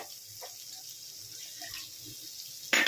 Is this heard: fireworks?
no